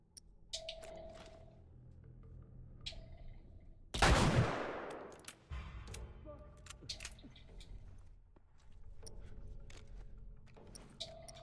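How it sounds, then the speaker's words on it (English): Sniper rifle fire in a video game: one sharp, loud shot with a long decaying crack around the middle, set among scattered game clicks, chimes and faint background sounds. "A sniper rifle."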